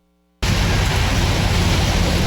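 Heavy rain pours down at a student walkout at Ateneo de Manila. A dense, constant roar starts abruptly after a brief quiet moment and stays loud and unbroken.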